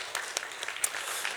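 A church congregation breaks into applause during a Sunday worship service, a brief, fairly quiet patter of many hands with a few sharper claps standing out.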